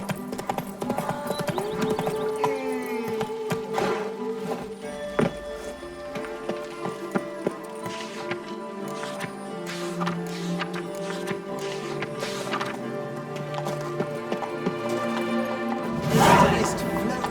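Roach, the horse in the video game The Witcher 3: Blood and Wine, trots with steady rhythmic hoof clip-clops over a layer of game music, with brief speech and a louder burst near the end.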